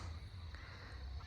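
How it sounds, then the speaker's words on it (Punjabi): Crows caw faintly in the distance over Sarian village in Punjab, by the Sutlej river at dusk, a couple of brief calls above a low steady background rumble. "ਤੇ ਆਵਾਜ਼ਾਂ ਸੁਣੋ ਜਾਂਦੇ ਵਾਰ ਤੇ ਪੰਛੀਆਂ ਦੀਆਂ"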